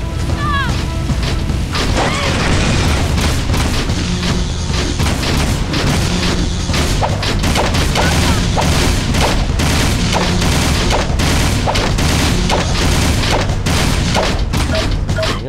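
A turret in GTA 3 fires nonstop, producing rapid, loud bursts of gunfire and booming explosions in a dense, unbroken barrage that stays close and heavy throughout.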